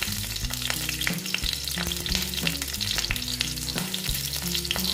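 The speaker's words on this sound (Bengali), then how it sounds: "দেখো তেলটা প্রায় গরম হয়ে গেছে। এবার আমি 2টো কাঁচা লঙ্কা দিয়ে দিচ্ছি।" Two green chillies frying in hot oil in a pan, a steady dense sizzle and crackle, with background music tones running under it throughout.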